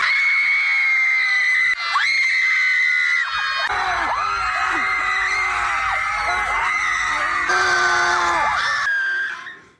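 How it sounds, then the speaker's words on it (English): A group of people scream performatively together in a public space, loud sustained shrieks rising and falling in overlapping waves, with brief breaks before the chorus of screams resumes and then fades out at the end. "an excerpt of the deliberations of Scream Club, apparently a thing in which groups of annoying idiots gather in public and shriek performatively in public spaces"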